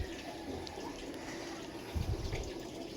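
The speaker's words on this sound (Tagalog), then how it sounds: "Ganda na ng buhos ng tubig." Water pours steadily from a tap, a continuous hissing, splashing flow heard close by with a brief heavier gush near the end, no talking.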